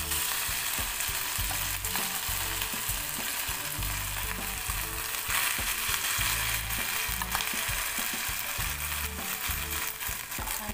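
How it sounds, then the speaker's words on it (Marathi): Cooked broken wheat porridge is stirred into roasted almonds and coconut in a hot pan, giving a continuous close sizzle with rhythmic scraping and stirring throughout. "तर ह्यामध्ये आपण जो शिजून घेतलेला दलिया आहे तो यामध्ये मिक्स करून घ्यायचा।"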